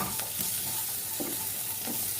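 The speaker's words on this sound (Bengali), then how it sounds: "এবার একটু নেড়ে চেড়ে নেব" Garlic cloves fry in a pan while being stirred, giving a continuous close sizzle broken by soft scraping and stirring strokes, with no voices.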